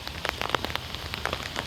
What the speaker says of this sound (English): good luck getting through all this rain just to get to my Tesla and see it